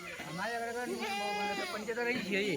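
Kathiawari goats bleat at a livestock market, several wavering, drawn-out cries overlapping up close, with a voice talking over them.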